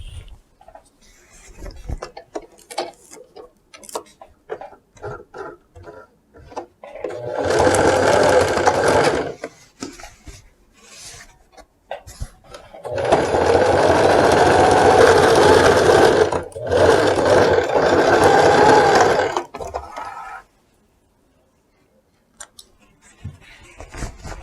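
Close sewing machine runs a 1 cm seam on a wide-leg trouser leg in two longer stretches, a rapid steady whirring chatter broken by pauses. Clicks and fabric handling fill the gaps, and the end is quiet.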